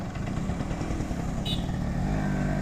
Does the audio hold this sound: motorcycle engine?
yes